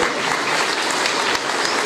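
A school audience claps hard at a ceremony honouring retiring teachers, producing a brief, dense burst of applause at close range that stays loud and even throughout.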